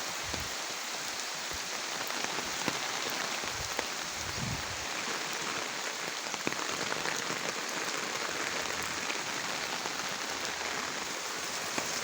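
Light drizzling rain patters steadily and evenly across the surroundings, a soft continuous hiss with faint scattered drops and no voices.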